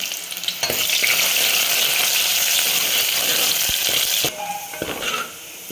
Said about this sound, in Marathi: तर तेल छान गरम झाल्यानंतर एक कांदा टाकायचा.